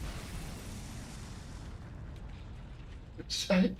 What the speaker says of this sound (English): You're not immune to your own explosions.